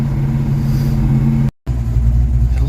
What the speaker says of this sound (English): At least it's idling nice and strong.